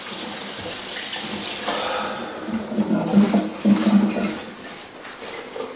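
Water rushing and gurgling down a household sewer drain just after unclogging, a steady running flow that swells and surges midway before easing, close and continuous with no talk.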